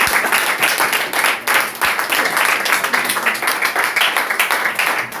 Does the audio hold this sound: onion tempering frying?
no